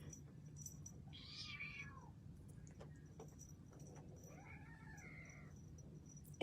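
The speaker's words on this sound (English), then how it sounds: "Don't mind my kittens in the background." Kittens meow in the background, two drawn-out cries a few seconds apart over a steady low room hum, with no talking.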